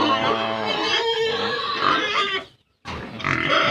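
Pig grunting and squealing during standing heat detection for artificial insemination, a continuous harsh vocal run close by that breaks off briefly near the end, then resumes.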